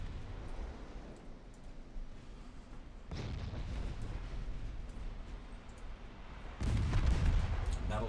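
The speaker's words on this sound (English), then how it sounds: "Battleship secondaries active." Battleship secondary guns firing in the naval warfare game Ultimate Admiral Dreadnoughts, a continuous rumbling barrage of booming artillery that swells louder in two stages, with no voices.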